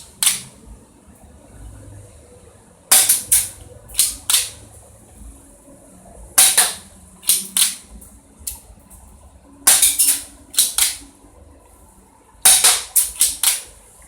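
BB air pistols fire in quick sharp bursts of three to five snappy cracks. The groups are spaced a few seconds apart and sound close and loud against quiet background noise.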